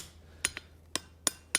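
A lightweight hammer taps a small metal latch on an anvil, giving five crisp, ringing strikes in quick, uneven succession at moderate volume.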